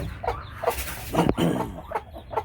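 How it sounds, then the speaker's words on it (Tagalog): A mother hen brooding three newly hatched chicks gives short, soft clucks in an uneven run of about six bursts, close by and clear. No one talks. "Ito yung inahin na nagpipisa yung tatlong sisiw."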